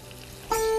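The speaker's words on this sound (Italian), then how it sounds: "Il rumore si sente. Si sente, vuol dire che l'olio è ben caldo per cominciare" Monkfish chunks coated in an almond crust hit hot oil, starting a steady, close sizzle that rises suddenly about halfway through and holds at an even crackling hiss, with a faint tonal ring over it.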